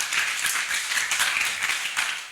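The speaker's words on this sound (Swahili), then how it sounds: "Wapi makofi ya Enashipil Africa Safaris tafadhali" An audience at a Kenyan stage show claps for sponsor Enashipil Africa Safaris, a brief burst of brisk, scattered hand claps that fades near the end.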